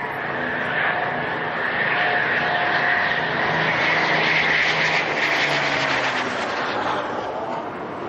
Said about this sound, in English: a distinctive Typhoon flying over there, Spitfire just leading the way